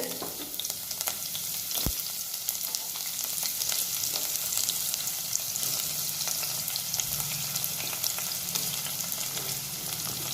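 Sliced onions fry in hot oil with whole spices and mustard seeds for a paneer and pea pulao, a dense continuous crackling sizzle that is close and even, with one sharp knock and no voices.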